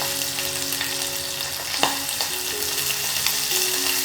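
Green chillies with salt sauté in a hot pan, a steady close sizzle and crackle of frying with a few light stirring scrapes and one sharper knock partway through, no talking.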